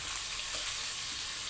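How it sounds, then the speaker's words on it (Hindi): Ginger garlic paste sizzling in a frying pan as it is stirred with a spoon, a steady soft frying hiss throughout with no talking. "इसमें अदरक लहसुन का पेस्ट ऐड करेंगे। इसे अच्छे से चम्मच से हिलाएंगे।"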